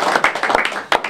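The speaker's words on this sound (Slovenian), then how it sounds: "In aplavz za moža." Brief burst of audience applause at a literary evening, dense overlapping hand claps heard up close and alone.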